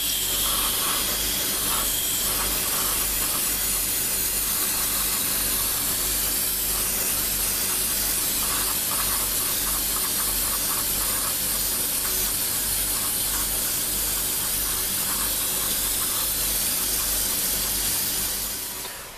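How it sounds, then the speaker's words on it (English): Airbrush spraying Mr. Color 181 semi-gloss clear coat onto a plastic Macross Zentraedi fleet ship model, a loud, continuous close hiss that holds steady and then cuts off at the end. "I'm going over this with Mr. Color 181 semi-gloss clear so I can do a clear coat."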